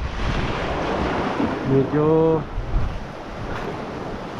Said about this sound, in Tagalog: malakas ang hangin pero maliliit lang ang alon